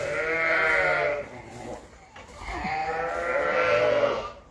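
A ewe in labour gives two long, loud, wavering bleats close by, separated by a brief pause, with no talking.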